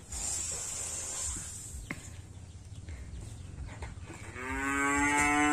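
Limousin cattle low in the background in a fattening pen, then a loud, drawn-out moo rises close by near the end.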